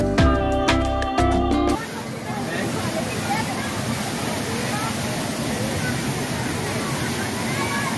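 Rushing water from Bhavli waterfall near Igatpuri roars as a steady broadband wash, nearby and continuous, after a brief burst of loud music at the start.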